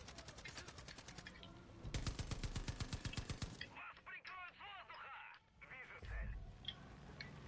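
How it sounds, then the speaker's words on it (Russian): Rapid bursts of video-game automatic gunfire rattle loudly for a few seconds, then fade into scattered shots and effects while people talk over the action. "что там, кто по мне стреляет?"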